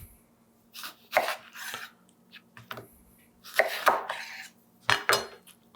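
A knife cuts a lemon into quarters: about five crisp, close slicing strokes with short pauses between them and no talking.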